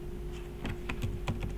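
Typing on a computer keyboard, a short burst of several crisp close key clicks in quick irregular succession over a quiet room hum.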